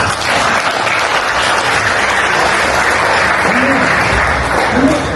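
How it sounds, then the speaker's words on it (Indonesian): A large crowd applauds steadily at a nursing school capping ceremony, a dense and even wash of clapping that holds at full strength throughout. "Tepuk tangan."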